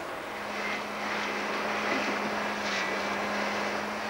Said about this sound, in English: the memorable Rocky Mountain plane crash in the action-adventure film Cliffhanger